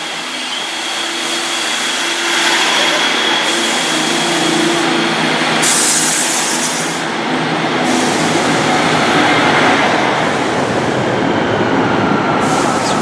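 A Great Western Railway train to Exmouth departs from a station in Devon, its engine a loud, steady drone that swells slightly as it pulls away, with a high whine layered over the rumble and no voices.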